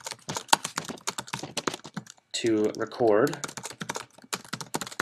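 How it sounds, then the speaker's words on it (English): Rapid, steady keystrokes clatter on a computer keyboard during a programming tutorial, pausing briefly while someone speaks and then resuming. "A lot of typing in this tutorial here."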